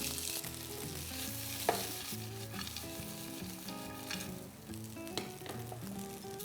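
Diced potatoes and coarsely ground roasted peanuts cooking in a pan for aloo sabzi give a soft, continuous sizzle with occasional stirring knocks, fairly quiet and close.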